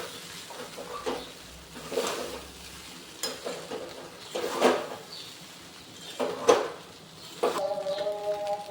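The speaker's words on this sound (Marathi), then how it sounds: "पोह्यामध्ये मीठ घालून घेऊया नाही आता चांगल्या प्रकारे पोहे परतून घेऊ" Poha (flattened rice) with salt being stir-fried in a pan, with soft sizzling under intermittent scraping and clattering strokes of a spoon against the pan, followed by a brief metallic ring at the end.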